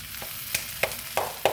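Spinach palak curry with Beyond chicken sizzling in a pan, with a steady frying hiss broken by four or five sharp scraping stirs at regular intervals, close and clear.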